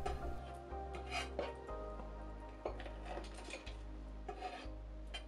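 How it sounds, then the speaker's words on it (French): Shrimp are crushed with the flat of a kitchen knife on a board, giving repeated soft rasping rubs and dull thumps at a steady working rhythm, close and quiet, with no talking. "Ensuite, les écraser avec le plat du couteau."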